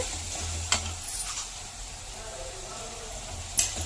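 Avarekalu uppittu mixture roasting in a pan, a steady soft sizzle under stirring, with two sharp scraping clicks of the spoon against the pan near the start and end.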